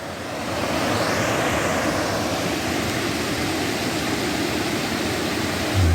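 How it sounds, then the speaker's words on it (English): A distant waterfall produces a steady, even rushing hiss that rises in and holds throughout, with no talking over it. "So there's that waterfall."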